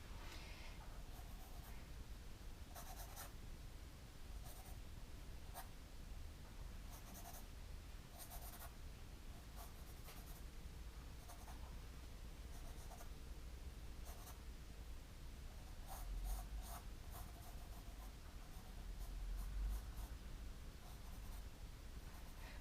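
Pencil scratches firmly on paper in continuous strokes while cosmos flowers are drawn, a soft close rasp with short pauses and repeated stroke bursts.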